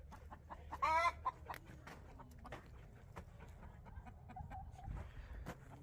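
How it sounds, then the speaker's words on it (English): Chickens in a farm chicken coop give a brief burst of clucking near the start, followed by quieter scattered clucks and rustling at a distance, faint overall. "You got the chicken coop."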